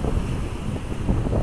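Breezy wind gusts on a beach at Kitty Hawk, North Carolina, rumbling steadily and fairly loudly against the microphone, with no voices.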